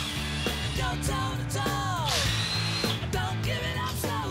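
A power drill whirs and revs in short bursts while the free spool handle of an ARB winch is adjusted to suit an ARB bull bar, with a voice calling out briefly over the steady tool noise.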